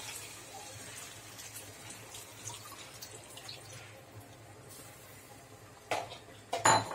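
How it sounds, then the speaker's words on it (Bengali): Chicken stock is poured into a pot of Bengali-style chicken and potato curry. Soft, quiet liquid trickling and dripping run beneath faint kitchen noise, ending with a few louder clinks of the pot near the end. "এবার আমি চিকেন স্টকটা একটু দিচ্ছি।"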